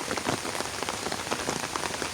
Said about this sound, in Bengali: এই বৃষ্টি যেন অব্যাহত থাকে